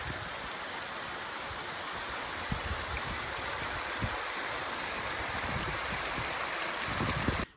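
Hobo Creek near Lake City, Colorado, flowing steadily. A close, even rushing of water continues without a break and ends abruptly.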